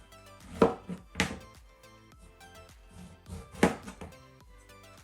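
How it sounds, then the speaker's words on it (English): A knife cuts peeled zucchini into slices on a board, a few distinct close chops spaced irregularly with quieter taps between, over a faint tonal background. "Then I'm going to cut the zucchini to slices first"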